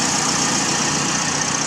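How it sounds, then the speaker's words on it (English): A 2017 Toyota Vios idles with the aircon on, its factory-installed drive belt giving a steady squeal and screech over a constant engine hum, close and continuous. "It's now making that squealing sound"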